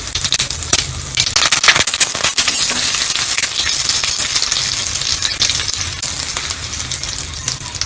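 Mustard seeds and asafoetida frying in a little oil for a tomato chutney, a dense continuous sizzle with sharp popping crackles throughout, close and loud, with no voices.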